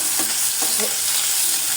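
Two pieces of hilsa fish fry in hot oil, a loud, dense and continuous sizzle close by that holds steady throughout.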